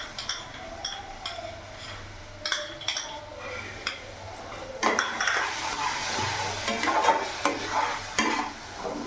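Tomato paste, a large tomato ground fully, poured and stirred into a frying pan for a mushroom gravy, with a steady sizzle, repeated scraping strokes of a spoon and occasional clinks against the pan.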